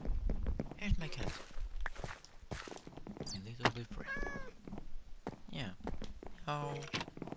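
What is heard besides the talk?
cat meowing in Minecraft video game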